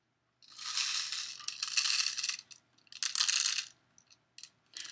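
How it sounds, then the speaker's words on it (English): Pellet rifle styled like an M16 being worked, giving bursts of bright metallic rattling and clicking, faint and close, in two main clusters with scattered small clicks. "The reason it makes that noise is because it's actually a pellet rifle."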